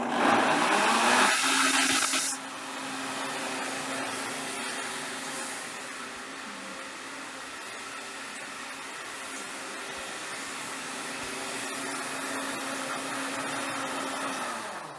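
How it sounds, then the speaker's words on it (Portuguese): A blender runs on a grated nutmeg mixture for honey bread dough, starting with a loud burst that drops after two seconds into a steady, continuous whir. "a gente pega essa misturinha e leva ao liquidificador por alguns"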